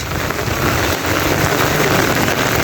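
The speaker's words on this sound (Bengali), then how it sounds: "এত বৃষ্টি" Heavy rain pours down in Dhobaura, a dense, steady roar of drops hitting surfaces close by that stays loud and unbroken from start to finish, with no voices.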